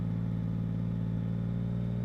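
A 2022 Yamaha MT-09 with new S23 tires hums along at a steady cruise, its engine a constant low drone with wind rush, even and unbroken for the whole stretch.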